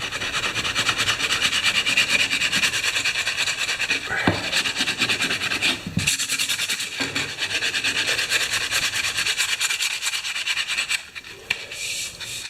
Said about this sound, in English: I get my old piece of wood and sanding block out